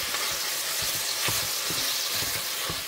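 Ground meat sizzles in an enamel cast iron sauteuse as a spatula breaks it apart, a steady loud frying hiss with repeated dull scraping knocks, close up and without talk.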